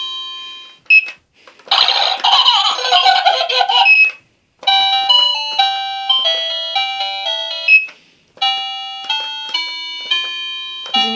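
A baby's toy piano from a developmental play mat switches on, giving a loud, close electronic jingle followed by bright, stepped synthetic melody notes in short repeating phrases, with brief pauses between them.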